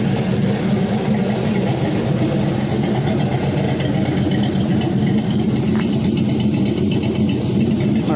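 An untuned 6.0L LS V8 engine runs loud and close with a steady rumbling idle and a rough, throbbing exhaust note throughout, without clear rev spikes.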